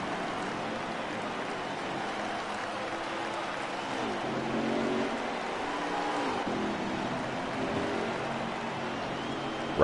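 Dirt track race cars at Bristol in a NOSSCAR Dirt Touring Series race, a steady loud engine roar from on board the leading car with a slight rise and fall in pitch, with no talk.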